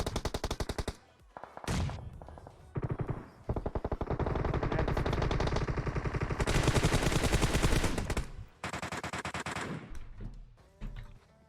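Gunfire in PUBG Mobile on the Miramar map, rapid automatic bursts of rattling shots in long strings with short pauses between them, loud and close, with no talking over them.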